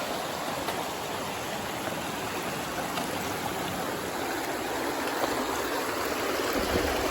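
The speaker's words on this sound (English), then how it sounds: "We get to cross the river now." River water flowing steadily and close by at a river crossing on the Appalachian Trail at the Connecticut–Massachusetts line, a continuous broadband rush that swells slightly toward the end, with no speech.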